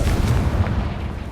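A Confringo fire spell from the Hogwarts Legacy video game bursts in a dense, loud blast. It carries heavy low-end rumble and fades slightly over a little over a second, with no talking.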